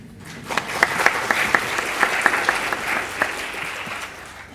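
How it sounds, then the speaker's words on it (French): Audience applause at a food-and-cities conference colloquium, a dense wash of clapping with a few sharper individual claps standing out, filling the room steadily for several seconds after a brief quiet start. "On les applaudit quand même."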